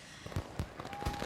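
Fireworks pop and crack in a rapid series of sharp bursts at moderate distance, each explosion leaving a brief rumble, with a faint steady tone behind them.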